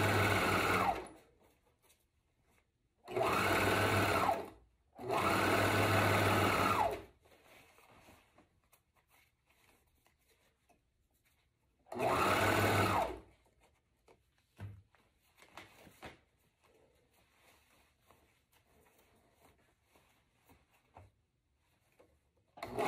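A sewing machine stitches stretched elastic onto a corset with a shelf bra, running in four loud, even bursts of a few seconds each, separated by quiet pauses with faint handling of the fabric.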